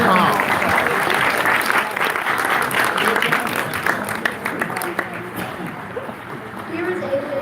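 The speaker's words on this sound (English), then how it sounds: "Nice applause." Loud, sustained audience applause at a Tustin City Hall meeting, dense clapping filling the room and slowly thinning toward the end, with a few voices mixed in.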